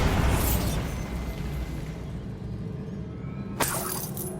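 Bombarda blasting spell in the Hogwarts Legacy video game: a loud shattering explosion that fades into a long rumbling tail, followed by a short sharp crack near the end.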